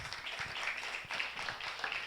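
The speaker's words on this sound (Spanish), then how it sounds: "Bríndele un aplauso al Señor." A church congregation clapping for the Lord, a steady, moderately close patter of hands that pulses slightly in rhythm throughout.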